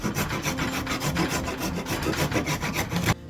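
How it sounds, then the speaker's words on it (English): A Jorgensen rasp shaves down a wooden axe handle in quick, rhythmic rasping strokes, close and loud, about a dozen back-and-forth passes before stopping abruptly. "I've got a rasp right here, and I'm going to use this rasp."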